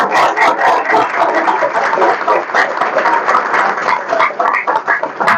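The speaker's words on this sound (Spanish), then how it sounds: "Un aplauso para el compañero." An audience at a political book presentation in Argentina breaks into dense, sustained applause, loud and close, with many hands clapping steadily throughout.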